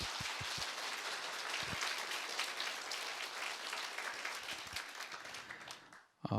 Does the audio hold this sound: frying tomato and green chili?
no